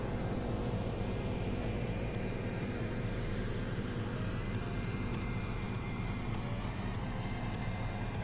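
Inside the cab of a combine harvester in Farming Simulator, a steady, loud engine drone with broadband rumble runs continuously, with a slight shift in tone partway through and no talking.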